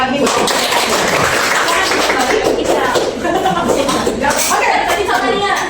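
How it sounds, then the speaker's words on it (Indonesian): An audience claps together at an educational event, a dense, continuous patter of hands that stays loud and even throughout. "teman-teman, kita berikan tepuk tangan sekali lagi"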